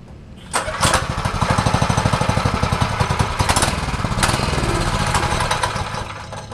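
A small pit bike engine sputters and runs roughly with a rapid uneven putter, loud and close, with a few bursts of revving.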